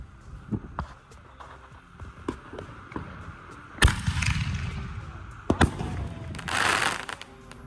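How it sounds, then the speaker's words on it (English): Phoenix Rise canister mortar shells by Space Ranger Fireworks go off outdoors: sharp loud bangs burst out twice, each followed by a sizzling crackle, with softer pops and thumps scattered between them. "this is Phoenix Rise by Space Ranger Fireworks"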